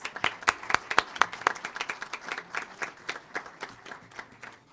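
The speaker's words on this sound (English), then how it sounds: "Let's give them another round of applause." Audience at a city council meeting claps for a youth soccer league, individual hand claps distinct and fairly close, starting strong and gradually thinning out, with no talking.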